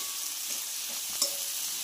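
Curry leaves hit hot oil while an amma-style leafy-greens dal is cooked, giving a soft steady sizzle with a brief sharper crackle near the end, close and fairly quiet, with no talking.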